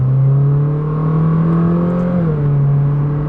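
A Ferrari 458 Speciale engine pulls steadily from inside the cabin, a smooth sustained drone that rises gently, dips briefly at a shift, then carries on.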